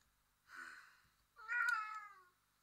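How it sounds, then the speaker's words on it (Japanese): A pet cat meows twice, two short, clear calls a moment apart in an otherwise quiet room, the second one longer and rising. "うちの猫。"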